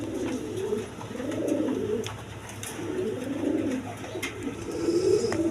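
Several pigeons, a pair of pankhi fancy pigeons among them, coo in repeated rolling phrases at close range, steady and moderately loud over a faint background hum.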